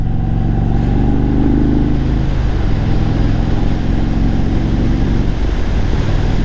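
A 1900cc motorcycle engine accelerates steadily and loudly up close, its low rumble holding throughout with a slight rise and shift in tone partway through.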